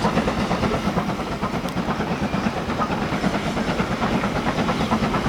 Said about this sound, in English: I need this train to move.